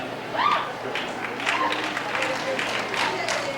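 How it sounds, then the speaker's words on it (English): An audience at a 1993 school graduation at Randolph Center Grove School applauds and cheers for eighth graders, steady clapping with scattered shouts filling the hall from start to finish. "Cheer for them."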